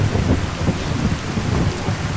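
Rain falls with rumbling thunder as in-game weather in Skyrim VR, a dense continuous patter over low rolling booms that keeps going with no let-up.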